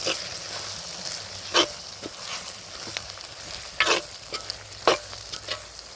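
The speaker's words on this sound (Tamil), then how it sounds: "நல்லா கிண்டிக்கலாம்." Brinjal gravy with chilli powder, garam masala and spices is stirred in a pan for a Kongu-style village recipe, a steady close sizzle broken by several sharp scraping strokes of the spoon.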